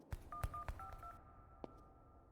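Touch-tone phone dialing beeps from the video game Plane Accident, a quick run of several clear tones followed by a longer sustained tone and one last short beep, heard alone without talk.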